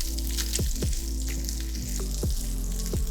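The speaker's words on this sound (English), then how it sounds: "we're going to add half of our garlic. And then just fry it for around 30 seconds-ish." Garlic fries in a pan with cooked chicken, giving a steady close sizzle with a low hum beneath and occasional sharp pops and crackles spaced through it.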